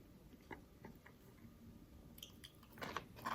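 Someone eating Wawa french fries, with soft, faint chewing and biting sounds scattered through a quiet stretch, then louder crunchy bites toward the end.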